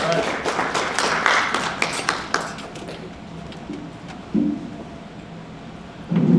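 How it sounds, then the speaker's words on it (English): An audience at an evening celebration event applauds, a burst of dense clapping that is loud at first and then tapers off, followed by a few low thumps and quieter room sound. "Round of applause for Provost Storm, please"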